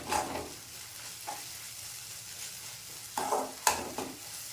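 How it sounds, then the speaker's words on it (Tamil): Ginger and garlic sizzle quietly in a pan while a utensil scrapes and stirs in several short bursts, close by. "அந்த இஞ்சி பூண்டு பச்சை வாசம் போட மட்டும் ஒரு 2 நிமிஷம் கலக்கி விடலாம்"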